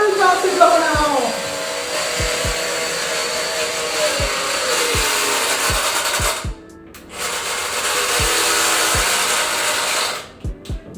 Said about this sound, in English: my blow dryer went out